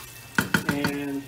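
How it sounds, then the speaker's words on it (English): Hot water hits a lamb shank searing in a pot: four quick splashy bursts of sizzle that settle into a steady, moderate fry, close by and without voices. "I'm gonna add a little bit of hot water"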